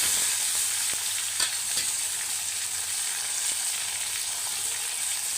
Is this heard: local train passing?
no